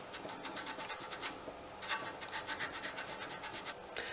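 Hand sanding of a sailboat centerboard in a tight space: rapid rhythmic scratchy rubbing strokes, close and steady, in bursts with a brief pause in the middle.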